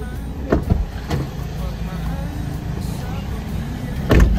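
Car ride with a driver, a low steady engine and road rumble inside the vehicle, with a few thumps and knocks and people talking over it.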